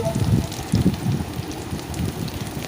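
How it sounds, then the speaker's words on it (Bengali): Potatoes fry in hot oil seasoned with salt over a fairly high gas flame, giving a soft, continuous crackling sizzle with some stirring noise, steady and close. "নুন দিয়েই আলুটা ভেজে নিচ্ছি"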